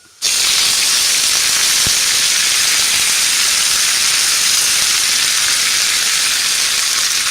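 A loud, sudden hiss as curry leaves hit hot coconut oil with mustard seeds and urad dal, then a steady, intense sizzle that continues unbroken.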